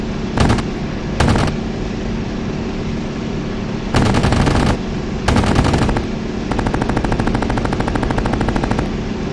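Aircraft cannon fire in the online war game Battleground Europe: short loud bursts of rapid automatic fire, separated by gaps, then a longer sustained stream of shots at the end.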